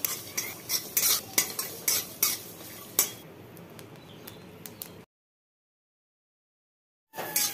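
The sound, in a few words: dry roasting spices stirred in wok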